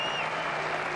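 Cricket crowd applause for Javed Miandad's 150, a short dense burst of clapping from a large stadium crowd.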